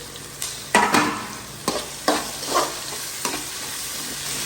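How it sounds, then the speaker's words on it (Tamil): Curry leaves and tomatoes frying in a pan, a steady sizzle broken by several sharp scraping stir strokes at uneven intervals, close up and without any speech. "கருவேப்பிலை, அப்படியே தக்காளி போட்டுக்குவோம்."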